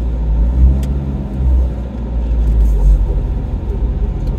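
A Vauxhall Corsa B with no power steering pulls away, its engine a low rumbling drone heard from inside the cabin, swelling and easing as it gets moving.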